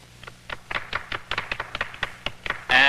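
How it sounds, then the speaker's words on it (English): A handful of people clap sparsely and irregularly in a 1964 film scene, a brief patter of separate claps followed by a louder burst at the end. "A little applause, please."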